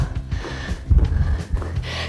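Sharp, rhythmic breaths and snorts through the nose and mouth during a squat workout, close and effortful, in short uneven bursts.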